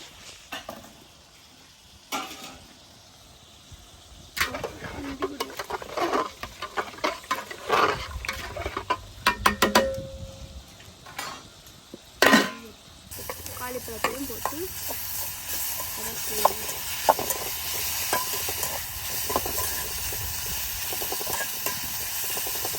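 Plantain and onion with salt are stirred in a frying pan for a prawn sambal. Intermittent scraping and clatter give way to a loud, continuous sizzling hiss that fills the second half.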